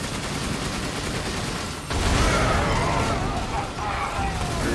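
Sustained, dense gunfire from Resident Evil Village keeps up a steady barrage, with a sharp jump in intensity partway through as more shots pile in.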